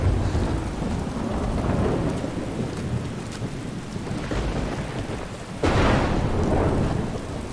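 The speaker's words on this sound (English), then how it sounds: "don't stand under a tree in a thunderstorm" A Skyrim thunderstorm of steady heavy rain with a rolling rumble of thunder underneath, followed by a sharp loud crack of thunder near the end, and no voices.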